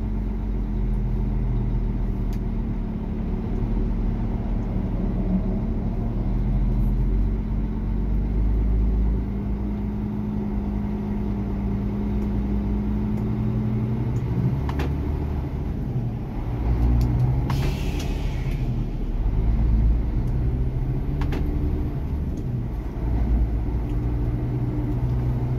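A heavy truck engine rumbles low and steady as the vehicle drives along a road in South Africa, continuous and fairly loud throughout with no voices.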